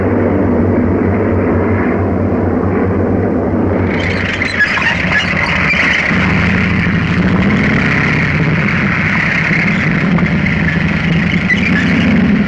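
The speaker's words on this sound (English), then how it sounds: "American transport planes loaded with supplies follow us as we advance." American transport planes loaded with supplies drone overhead during an army advance in North Africa, a loud, continuous engine roar that swells and brightens partway through and holds steady to the end.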